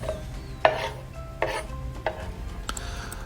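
Samosa filling ingredients, with chopped parsley added, are stirred and mashed in a bowl, giving a few distinct scraping, squishing strokes at uneven intervals, close and fairly quiet, with no talking.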